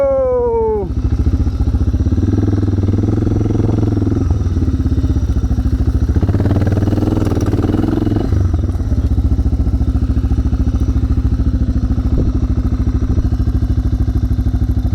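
A Suzuki motorcycle rides off-road in Morocco, its engine droning steadily and loud throughout, with the pitch rising and falling as the rider works the throttle; a brief rising whine opens the sound.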